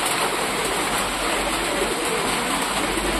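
Pigeons coo softly and repeatedly at close range against a steady background hiss.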